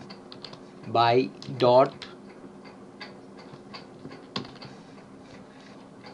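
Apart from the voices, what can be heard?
typing on a computer keyboard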